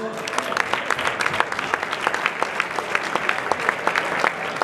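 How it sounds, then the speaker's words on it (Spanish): A crowd at an awards moment after a mountain-bike route event applauds steadily, dense clapping with sharper individual claps standing out, a voice briefly audible underneath. "Un aplauso."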